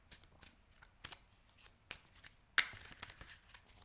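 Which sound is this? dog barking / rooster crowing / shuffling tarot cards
shuffling tarot cards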